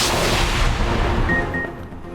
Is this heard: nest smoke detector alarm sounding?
no